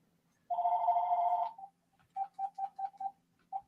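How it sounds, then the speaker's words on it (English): A telephone rings with a sustained electronic tone, then a run of short, evenly spaced beeps, clear and fairly close in an otherwise quiet room. "Somebody get that. Could be the phone."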